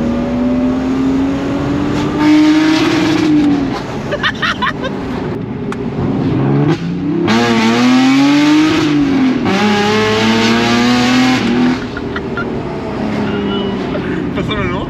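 A BMW E36 325i straight-six with a new stainless exhaust manifold revs hard and loud in rising and falling sweeps, close up and continuous for the whole stretch, with people talking over it.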